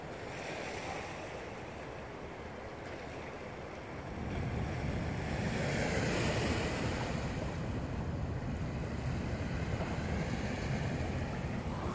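Waves break against rocks at the water's edge, a steady rushing surf with wind buffeting the microphone, swelling louder partway through and staying close and continuous, with no talk.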